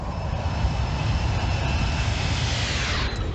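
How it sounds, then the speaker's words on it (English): Alaska Airlines airliner jet engines roar past in a flyby in the X-Plane 11 flight simulator over Alaska, a loud, steady broadband rumble and whine that shifts slightly near the end, with no talking. "Let's do a flyby here."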